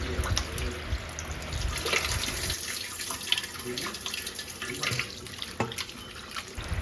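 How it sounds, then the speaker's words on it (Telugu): Mutton pieces rinsed under a running kitchen tap, with water splashing steadily into a sink and over the meat throughout, the stream loud and close with shifting sloshes as the pieces are handled. "ఇక్కడ మటన్ వాష్ చేసుకుంటున్నాను"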